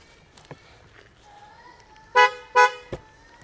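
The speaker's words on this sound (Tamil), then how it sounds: "ஸோ நான் கார் ஆன் பண்ணுறேன் பாருங்கள்." A 2024 Kia Seltos being switched on gives two short, loud electronic toots in quick succession, preceded and followed by faint clicks and chimes in a quiet cabin.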